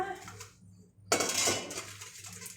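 Plates and dishes being washed, a quiet moment followed by a sudden clatter and clinking of crockery, then running, rattling handling of dishes close by.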